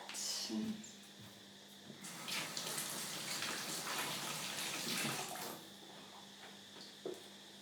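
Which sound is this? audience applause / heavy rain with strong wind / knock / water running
water running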